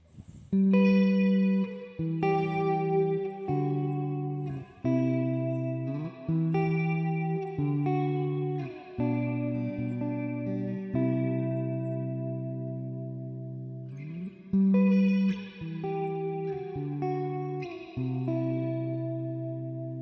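Clean guitar notes and chords played slowly through a Joyo Atmosphere pedal's plate reverb, each ringing out into a smooth, bright reverb tail that lingers between phrases.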